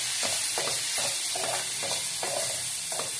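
Tomatoes with chicken masala and salt sauté in a pan under a steady sizzle, while a spoon stirs in even strokes about twice a second, close and fairly loud.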